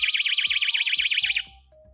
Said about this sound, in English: When the door or window is open, the alarm will sound.